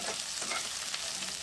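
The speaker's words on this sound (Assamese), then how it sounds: "ভালদৰে পিয়াজখিনি ৰঙচুৱা হোৱালৈকে অকণমান সময় ভাজি লম" Chopped onions fry in oil with a steady, close, broadband sizzle that holds even and unbroken for a moment, with no voices.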